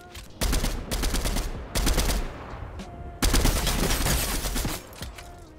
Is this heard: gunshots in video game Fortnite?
yes